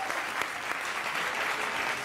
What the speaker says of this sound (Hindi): आप लोग के लिए ताली।